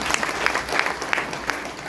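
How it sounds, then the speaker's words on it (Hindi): An audience in a hall bursts into welcoming applause, a dense, steady patter of many hands clapping close by with a few sharper claps standing out, lasting only a couple of seconds. "सभी एक बार आप उनका स्वागत कर दो तालियों बजा के"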